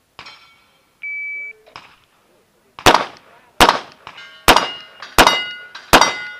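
Gunshots ring out on a steel-target shooting stage, five sharp loud cracks with metallic ringing tails at a steady pace, preceded by a timer beep and a few quieter clanks.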